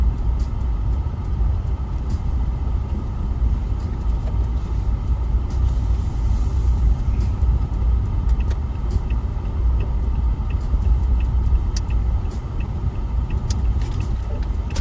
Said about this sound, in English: That truck was going too slow.